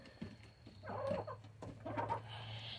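Chickens cluck near a chicken coop at dusk, with several close, soft bursts of clucking and throaty murmurs over a low steady hum.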